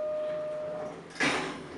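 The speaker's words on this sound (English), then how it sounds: "it almost takes 10 seconds for the frickin' doors to open." An old Otis Series 1 elevator in a Canadian hotel: a faint steady mechanical hum with a thin whine, then a brief louder whoosh and rattle as the slow doors slide open, close by and without talk.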